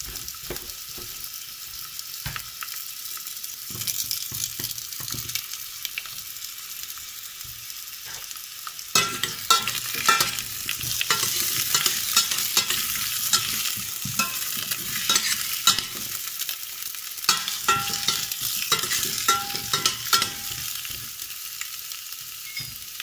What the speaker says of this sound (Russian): И редьку надо вот положить на масло, чтобы слегка обжаривать.